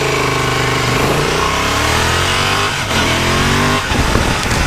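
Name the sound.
Honda Transalp motorcycle engine accelerating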